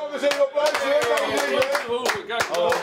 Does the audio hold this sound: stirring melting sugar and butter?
no